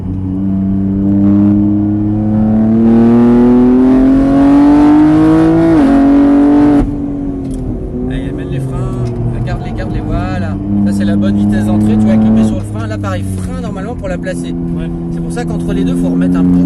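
A race car at Mireval rises in loud engine pitch under acceleration, drops sharply as it brakes into a corner, then climbs again through the next bend, with someone talking over the engine.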